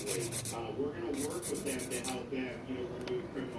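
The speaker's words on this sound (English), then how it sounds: "I'm going in with 100 grit filer. I'm going to take off some of that bulk on the top." Rasping strokes of a 100 grit file taking bulk off the top of fingernails, rapid rhythmic scratching at close range, with someone talking over it.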